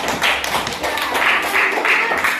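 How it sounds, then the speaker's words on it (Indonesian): Pupils in an Indonesian elementary science class clap for a classmate, a loud, close burst of many small hands tapping in quick uneven rhythm, with a few voices under it. "Tepuk tangan untuk kawannya Tulus."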